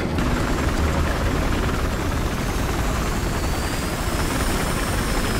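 Steady, loud helicopter rotor and engine roar from the video game Battlefield Hardline throughout, close and continuous, with a faint high whine above it; nobody speaks.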